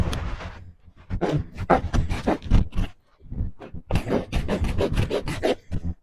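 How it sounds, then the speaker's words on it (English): A farrier's rasp files a horse's hoof in repeated rough strokes at a steady back-and-forth rhythm. The strokes are close and fairly loud, with a short pause partway through before they resume. "Now we'll go for the rasp."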